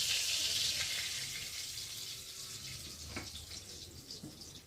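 Oil heating in a frying pan while cooking a banana flower (mocha) dish gives a steady, close hiss of sizzling that stays fairly even throughout, with a few faint clinks near the end.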